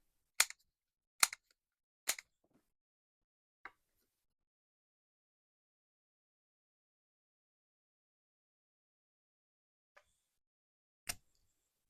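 A corner rounder punch snips paper corners for a junk journal, several crisp isolated clicks: three quick ones, a fourth soon after, then a long pause before a faint one and a final sharp click.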